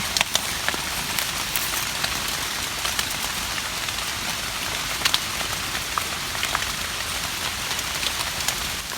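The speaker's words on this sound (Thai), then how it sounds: "ฝนตกลงใหม่แล้วเนาะตกแรงแล้วครับ ตกไม่หยุดไม่หย่อนเลยฝน" Heavy rain pours steadily in a forest during mushroom foraging, a dense, continuous hiss of drops on leaves and ground with scattered sharper patters throughout.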